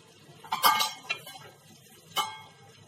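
A spoon clinks against a bowl while biryani masala and spices are mixed into yogurt for vegetable biryani, a few sharp scrapes and taps spaced apart, close and clear, no talking.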